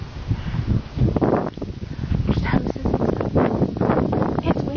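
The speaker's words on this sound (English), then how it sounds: "It's windy today. It's a nice wind, though." Steady gusty wind buffets the microphone throughout at Iwahana Station in Ube, Japan, a broad rushing roar with surges and dips, continuous and fairly loud.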